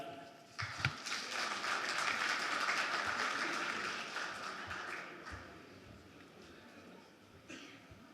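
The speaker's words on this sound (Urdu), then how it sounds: "آپ کی تالیوں میں استقبال کیجیے جناب شاہد خیالوی" An audience at a poetry gathering in Riyadh applauds to welcome a poet to the stage, a steady wash of clapping that swells, then slowly fades with a few coughs and murmurs.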